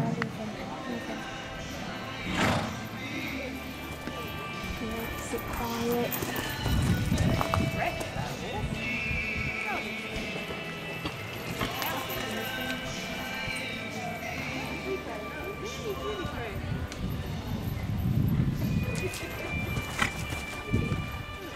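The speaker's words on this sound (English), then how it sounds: "Canter your horses, please canter." Horses canter around a show arena in a novice amateur hunter under saddle class, with soft hoofbeats, an occasional whinny and general arena bustle. Voices are heard over them.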